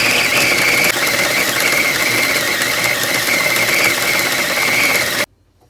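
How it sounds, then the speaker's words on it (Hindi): A mixer grinder whirs steadily, grinding dates into a paste for energy balls, loud and continuous with a high motor whine for about five seconds before cutting off abruptly into silence. "हम इसे फिर से एक दफ़ा ग्राइंड कर लेते हैं।"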